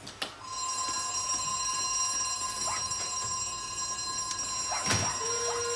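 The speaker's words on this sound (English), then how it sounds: "Sound the alarm." A continuous electronic alarm tone rings steadily throughout, loud and unbroken, with a few brief knocks and clatters over it in a period stage comedy setting.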